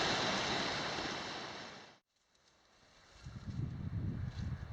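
Rushing water from a mountain creek along a grown-over Sierra Nevada trail, a steady broadband wash that cuts out abruptly halfway, then returns with a rumbling low flow.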